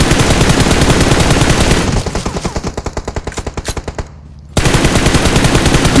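Loud automatic gunfire in an online shooter game, a continuous roar of shots that thins into a rapid string of distinct bursts, drops out briefly, then slams back in at full volume.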